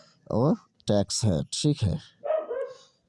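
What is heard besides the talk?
dogs barking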